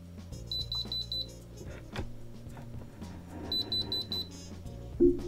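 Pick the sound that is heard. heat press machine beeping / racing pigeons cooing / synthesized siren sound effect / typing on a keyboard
heat press machine beeping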